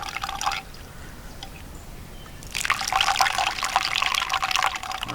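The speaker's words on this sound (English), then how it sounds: "while that continues to drip" Water trickles and drips during a campsite cooking session in a state park, a faint patter at first, then a louder, continuous splashing trickle.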